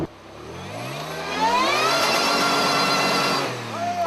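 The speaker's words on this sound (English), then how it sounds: "the truck has this really wild, whining sound" Supercharged 4x4 truck with a Flowmaster exhaust revs hard off-road, a rising supercharger whine climbing over a deep engine roar, then bouncing off the rev limiter before dropping back, close and loud.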